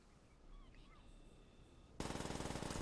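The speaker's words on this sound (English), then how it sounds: "PPSH-41. That fire rate, man." PPSh-41 submachine gun from the video game Call of Duty: World at War firing a rapid sustained burst, loud and dense, cutting in abruptly after a quiet, faintly chirpy lull.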